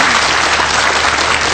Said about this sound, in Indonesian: Beri tepuk tangan untuk Ibu Menus.